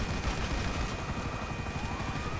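A helicopter in GTA 5 makes a dense, continuous rotor roar and whine, loud and close, with rapid gunfire crackling through the noise.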